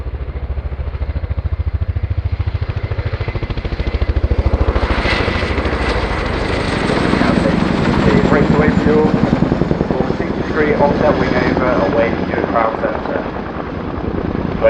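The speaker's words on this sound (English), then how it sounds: "the Chinook is actually operated under the Tri-Service Joint Helicopter Command" An RAF Chinook helicopter flies a display at an airshow, its loud rhythmic twin-rotor thudding and engine whine swelling as it passes close overhead, with a commentator talking over it throughout.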